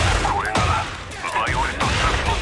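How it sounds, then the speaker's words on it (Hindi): Gunfire rattles in bursts during a story-mode fight in the video game Tekken 8, mixed with game music and character voices, with repeated sharp volleys spaced across the clip. "गोलियां वोलियां भी चल रही है उस पर।"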